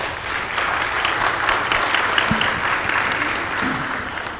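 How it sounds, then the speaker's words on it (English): An audience at a football personnel symposium breaks into sustained applause, a dense, even roar of many hands clapping at close range, with a few faint voices in the crowd beneath it. "So give yourself a round of applause"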